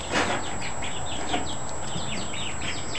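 Baby chicks and young turkeys, with a tiny bantam among them, in a chicken house: many high peeps and chirps overlap continuously and close by over a low background hum.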